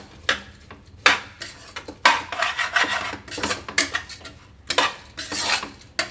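Rice stirred and lightly sautéed in ghee in a pot, with repeated bursts of scraping and clinking from a spoon against the pan between quieter moments.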